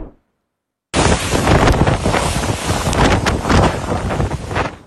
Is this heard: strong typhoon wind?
yes